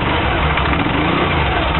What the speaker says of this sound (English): Let's twist that throttle so you get a real feel for it.